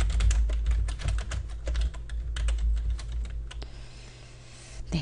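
Rapid, uneven clatter of keys on a computer keyboard, close by, with short pauses between bursts and no voices.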